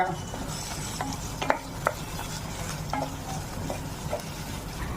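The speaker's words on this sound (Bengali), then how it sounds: "জিরে গুঁড়ো দিচ্ছে এক চামচ দিয়ে আবার কষিয়ে নেব মশলাটা" Spice masala with cumin powder and Kashmiri red chili powder being stir-fried in a pan, a steady low sizzle with occasional scraping stirs and soft utensil taps, close and fairly quiet.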